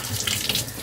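Kitchen sink tap running a short splash of water, a brief close hiss of flow into the basin with no voices.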